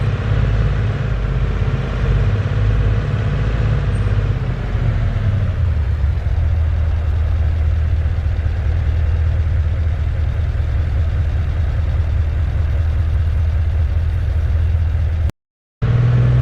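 A Ford F-150 pickup engine in American Truck Simulator idles, then revs up and accelerates steadily, its smooth mechanical drone holding at a loud, even level with a brief cut near the end.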